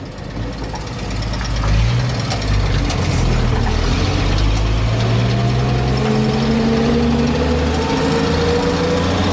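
A 1948 Chevrolet Loadmaster 2-ton truck engine labors while driving, a loud close rumbling drone with rising tones as it revs and pulls away, steady and without talk.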